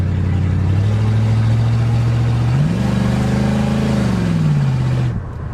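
A Ford Galaxy engine with no exhaust system, parked for five years and just brought back to life, runs loud and close with a harsh, raspy drone, revs up midway, holds briefly, then drops back toward idle and cuts off.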